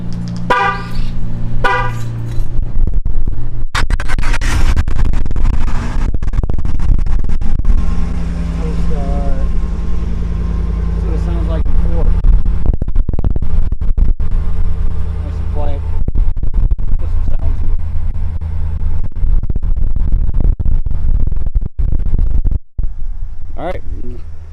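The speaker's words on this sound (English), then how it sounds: "Let's go ahead and do a nice cold start." A 2019 RAM 1500 pickup is cold-started nearby, its engine turning over and firing up loud before settling into a steady idle, with a few horn-like chirps and scrapes near the start.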